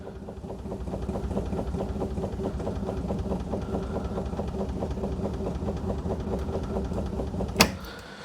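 An Aussie Ford engine cranks slowly on a battery left sitting, a steady, even chugging of the starter that runs on without catching, close and fairly loud, ending in a brief sharp knock near the end.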